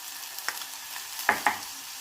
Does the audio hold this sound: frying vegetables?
yes